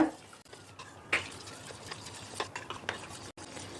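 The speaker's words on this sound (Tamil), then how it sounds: "ஸ்பூனை வச்சு நல்லா கலக்கி விட்டுடுங்க." Soft scraping and swishing of a spoon stirring thin appam batter mixed with water in a bowl, a few sharper clinks among quieter repeated strokes.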